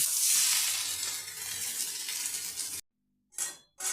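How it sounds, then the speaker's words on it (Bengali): Potatoes with poppy seeds sizzle and hiss in a hot pan over high flame, a steady frying crackle that cuts off abruptly, followed by a couple of brief bursts of sizzling. "এবার কিন্তু গ্যাসটা হাই ফ্লেমে করে ভাজতে হবে"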